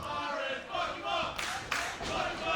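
Wrestling crowd at a Southern Sixteen tournament show roaring and shouting loudly as Alec Price and Myron face off in the ring, a dense continuous wall of cheers and yells with sharp bursts rising near the end.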